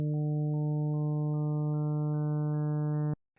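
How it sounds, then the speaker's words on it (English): A steady synthesized tone holds a fixed low fundamental while upper harmonics are added one after another in even steps, building a triangle wave from summed sine waves, then it cuts off abruptly into silence. "We could answer this by building a triangle wave out of sine waves."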